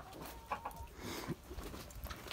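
Roosters crowing and clucking inside a farm coop, several birds calling at once in short overlapping bursts, fairly close but not loud, with other fowl sounds mixed in.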